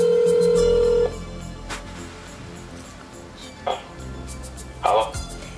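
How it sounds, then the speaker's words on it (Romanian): A telephone line gives one steady ringback tone during an outgoing call, then falls to quiet background noise broken by faint clicks and rustles. "Telefonăm!"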